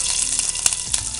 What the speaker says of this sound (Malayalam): എണ്ണ ചൂടായതിന് ശേഷം നമുക്ക് കടുക് ഇട്ട് കൊടുക്കാം. പച്ചമുളക് ഇട്ട് കൊടുത്ത്